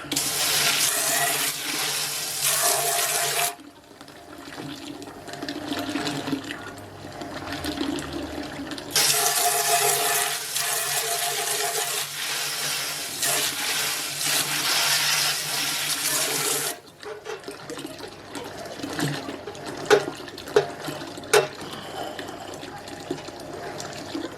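Water runs steadily from a tap while cleaning a BrewZilla Gen 4 brewing system, cutting off and restarting a couple of times, with a few clicks and knocks near the end.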